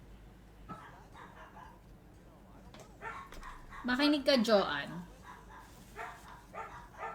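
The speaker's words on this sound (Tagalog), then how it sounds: "Gulo-gulo na mga aso ko. May tao kasi sa labas." Several dogs bark and yip excitedly in a burst, a little distant, while a person speaks briefly before and between the barks.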